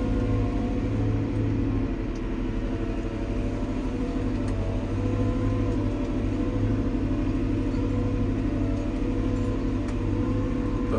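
Fendt 313 tractor engine running steadily at about 1500 rpm, a continuous low droning hum with a strong fundamental tone that holds even and loud through the whole stretch, no voices over it.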